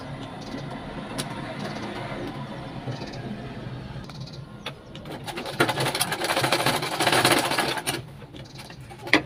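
A sewing machine stitches fabric for a child's bubble dress, running with a steady mechanical whir and rapid needle rattle that grows louder and busier in the second half, close up.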